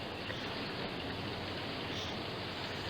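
Heavy rain pours down outdoors in a dense, unbroken hiss, loud and close, filling the whole moment with no talk over it.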